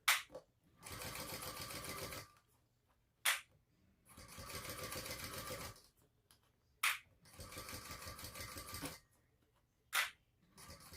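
A sewing machine top stitches a Bartleby Sling bag with a narrow seam allowance in three clear bursts of fast stitching, each about two seconds long. Short, sharp clicks fall between the bursts in an otherwise quiet room.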